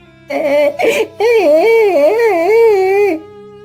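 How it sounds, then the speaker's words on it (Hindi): A cartoon boy sobs under a tree in a Hindi animated story, a close, wavering, whimpering cry in rising and falling wails lasting about three seconds after a short gasp. "अरे ये रोने की आवाज किसकी है?"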